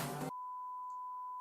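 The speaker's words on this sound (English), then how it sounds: "That was a very bad word that we beeped out" A steady, pure censor beep tone runs for just over a second, cutting off the talk on either side of it and covering a swear word on a casual podcast.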